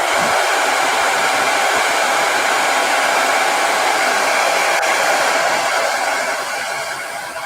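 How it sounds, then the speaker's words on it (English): A handheld blow dryer blasts on freshly sealed paint on a miniature model: a loud, steady roaring whoosh held for several seconds, tapering slightly at the end, with no talk. "So I'm gonna hit that with a blow dryer."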